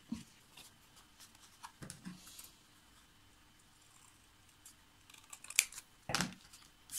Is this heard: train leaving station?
no